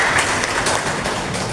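Audience applause at a union meeting: dense, steady clapping from a crowd fills the whole moment at even loudness, with no voice over it.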